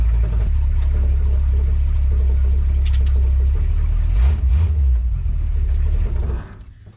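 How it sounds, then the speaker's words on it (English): A 1930 Model A hot rod engine runs loud and steady up close, then winds down and cuts out near the end, leaving quiet. "Did y'all hear that as that car shut off?"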